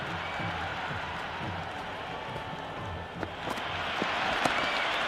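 Virtual stadium crowd in the Cricket 26 video game reacting to a six in an India versus England T20 match, a broad roar of cheering and applause that swells toward the end, with faint commentary underneath.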